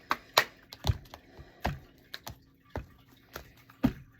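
Tarot cards are shuffled in the hands, making a series of soft, irregular taps and riffling clicks spaced through a quiet room.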